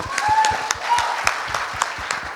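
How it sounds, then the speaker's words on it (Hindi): A crowd claps and applauds steadily for a couple of seconds, dense overlapping hand claps with a few sharper claps standing out. "अरे जोरदार तालियां 200 करोड़ के लिए"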